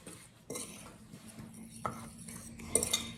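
A fork clinks and scrapes against a bowl while peach cobbler ingredients are mixed, with several sharp taps and light stirring scrapes, fairly close and quiet.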